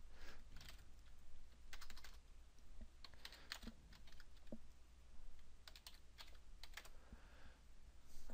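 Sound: typing on a computer keyboard in jshell

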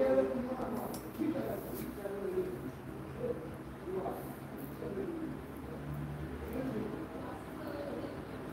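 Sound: birds cooing at a live auction

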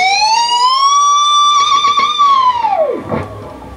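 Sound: electric guitar whammy bar dive bomb

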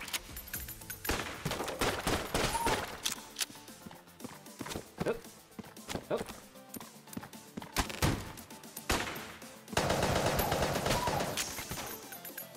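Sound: gunfire from the trick gun in Enter the Gungeon video game

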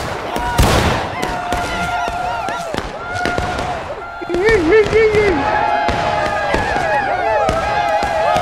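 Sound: musket volley fire at a Civil War battle reenactment

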